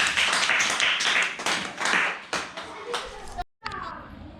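Schoolchildren in a class clap for a classmate's story, a scattered run of uneven claps that thins out and stops abruptly, then faint room sound resumes.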